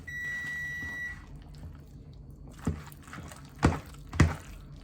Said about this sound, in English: she heard the oven beep for the lasagna